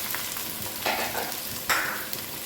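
Onions tossed into hot ghee sizzle steadily, with a few bursts of stirring and crackle rising over a constant frying hiss, close and fairly loud.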